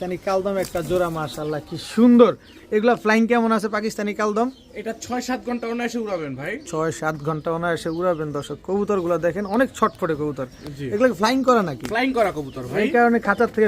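A pair of Pakistani Kaldam pigeons, male and female, cooing in a cage; repeated rolling, throaty coos follow one another almost continuously, close and clear.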